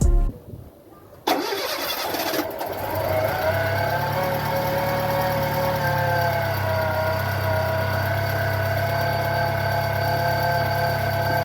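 A Fiat Palio with the Fiasa engine and a worn accessory (alternator) belt starts up after a brief cranking burst, then settles into a steady idle with a persistent high squealing whine from the belt running over the engine hum.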